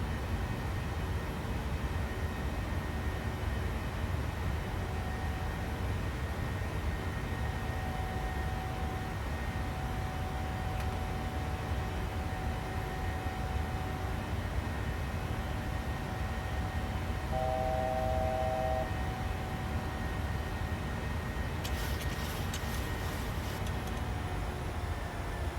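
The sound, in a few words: Boeing 737NG engines during go-around, PMDG flight simulator game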